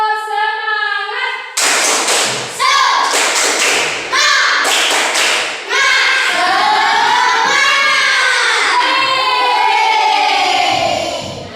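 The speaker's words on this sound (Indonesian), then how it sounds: "Kita tepuk semangat dulu ya" A primary school class does rhythmic spirit clapping, bursts of hand claps alternating with children chanting loudly together in a lively call-and-response pattern.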